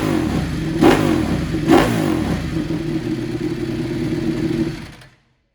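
A Ducati Desmosedici RR motorcycle fitted with a race exhaust revs up close and loud, with two sharp throttle blips over a steady idle before the sound cuts off abruptly.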